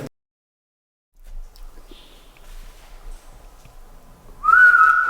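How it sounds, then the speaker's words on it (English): A single short, clear whistle sounds near the end after quiet rustling and faint movement, inside Wookey Hole Caves. "I heard a whistle before you whistled."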